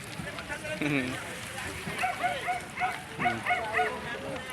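A dog barks and yips among fishing boats at Navotas, several short close barks mixed with people talking and calling out.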